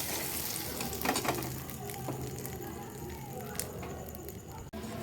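Chili powder, salt and spices frying in oil in a pan while being stirred, a steady close sizzle with scraping strokes of the spoon throughout.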